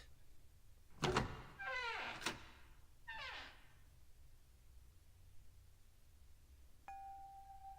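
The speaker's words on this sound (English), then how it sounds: "All right, let's open it." A door opens in the video game Zero Escape: 9 Hours, 9 Persons, 9 Doors with a heavy thunk and a mechanical whirring slide. A second thunk and whir follow, then a short electronic tone, all fairly quiet.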